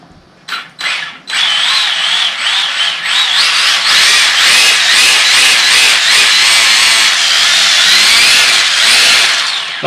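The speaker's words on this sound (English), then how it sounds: "That rasping noise is the drive shaft wobbling." A Tamiya TA02 RC car with an Opel Calibra V6 body runs with a wobbling drive shaft, giving a loud, continuous high-pitched rasping whine after a few short bursts, with no talking.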